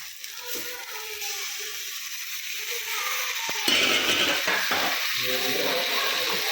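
Two finely chopped tomatoes drop into hot oil in a pan and are stirred, setting off a steady sizzle that rises sharply around the middle, with scraping and clatter after that.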